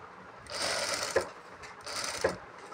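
A sewing machine stitches churidar pattern pieces in two bursts of rapid, even whirring, each about a second long, with brief quiet pauses between.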